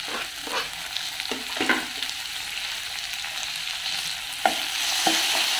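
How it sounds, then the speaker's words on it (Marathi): Onion and tomato fry in a pan and are stirred, a soft steady sizzle broken by light scraping strokes of a spoon, close and fairly quiet with no talking. "आता यात मी घालते टोमॅटो."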